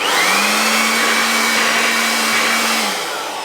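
INNTech electric air blower running steadily at full power, a loud continuous motor whine with rushing airflow, close up and alone, easing off slightly at the end.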